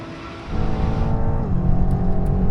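A Ferrari V12, a BMW M8 and a Nissan GT-R accelerate hard together in a rolling drag race from 50 mph, a loud sustained engine roar climbing in pitch with a gear change partway through.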